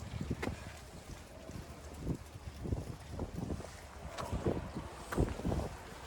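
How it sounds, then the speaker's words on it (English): Gusty wind buffets the microphone outdoors, a steady low rumble with irregular thumps and rustling, no voices. "Very windy out here today, so I apologize."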